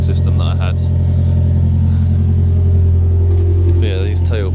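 A Ford Fiesta ST150 fitted with a custom RS-style dual-exit exhaust idles nearby with a loud, steady low drone and a faint rev near the end, while someone talks over it.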